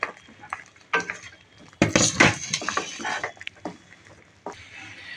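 Utensil stirring moong dal in a boiling pot: repeated scraping and clinking strokes over a soft bubbling sizzle, close up, with no talking.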